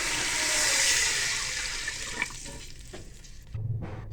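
Water being poured into a pot of spiced masala for one kilo of rice, a steady rushing pour with sizzling for several seconds, followed by a low bubbling burst near the end.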